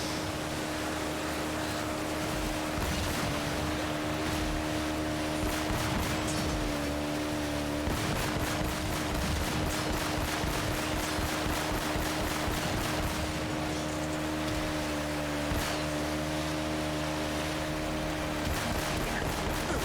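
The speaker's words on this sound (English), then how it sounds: "Elena number 2 has a pistol that I can blind fire at the barrels" Gunfire from a pistol blind-fired at barrels in Uncharted: Drake's Fortune, a steady crackle of shots over a dense, continuous game soundscape with water and ambient noise throughout.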